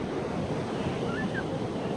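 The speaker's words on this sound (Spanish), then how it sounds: "Son de esas que caen como que en cámara lenta las olas acá." Ocean waves breaking slowly at a surf spot, a steady low wash of surf mixed with wind noise on the microphone, continuous and moderately distant.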